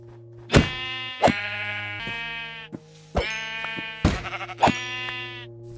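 Sheep bleat in the video game Minecraft: several loud, close, wavering calls come one after another with short pauses between, mixed with a few quieter clicks and thuds.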